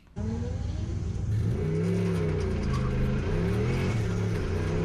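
Turbocharged 1UZ V8 in a Lexus LS400 at a drift day, kicking in abruptly and revving hard in wavering, rising and falling surges, loud and close with a steady turbo whir beneath.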